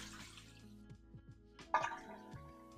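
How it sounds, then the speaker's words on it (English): Water poured out of a glass propagation vessel into a sink, a short quiet splash with a few trickles and drips, close and alone. "Let's just pour this out."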